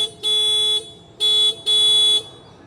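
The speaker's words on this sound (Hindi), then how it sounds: "मैं आपको हॉर्न एक बार बजा के सुना भी देता हूँ कि इसके हॉर्न कितने स्ट्रॉन्ग है।" Horn of an Ather Rizta electric scooter, three loud electronic beeps, the first and last longer, the middle one shorter, close and alone.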